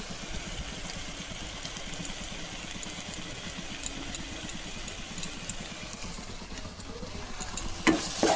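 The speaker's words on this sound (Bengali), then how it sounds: "মশলাটা আমি ভালো করে নেড়ে ভালো করে কষিয়ে নেবো" Ground spices including garam masala and cumin powder stir-fried in a pan for a paneer and cauliflower curry, a steady low scraping and sizzling throughout with a few louder knocks near the end, no talking.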